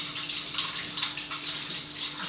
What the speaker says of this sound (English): I'm just going to take a cup and I'm going to wash them in my strainer here.